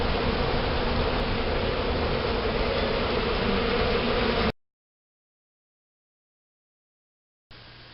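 Honey bees swarm around hive supers laid out for them to clean, a dense steady buzz filling the first half, then silence before the droning returns briefly at the end.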